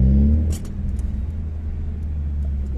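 A car with adapted hand controls for disabled drivers accelerates, a loud low engine rumble that drops after a moment and then settles into a steady throbbing drone, with no voices.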